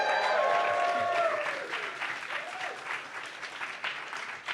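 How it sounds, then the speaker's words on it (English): Small podcast audience applauding for a birthday, a steady spread of claps that gradually thins and softens, with a few voices calling out over it at the start. "Can we give her a round of applause?"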